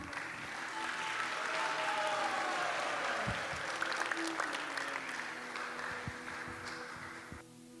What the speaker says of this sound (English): let's give another big round of applause to that wonderful performance by the ISKCON Toronto Drama Club